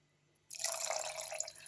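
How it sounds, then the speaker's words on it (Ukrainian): A glass of water is poured into a pot of fried meat, starting suddenly after a quiet moment and running as a close, continuous splashing gush. "Із зажарочкою м'ясо додаю я стакан води і ще один стакан води."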